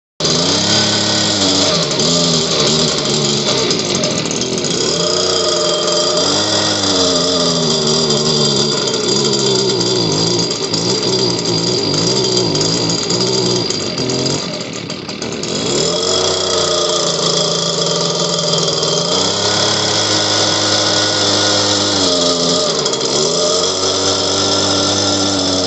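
A Stihl BG 56C leaf blower engine sputtering and revving as it tries to keep running, loud and close, with rising and falling engine pitch and a brief dip midway before it picks up again.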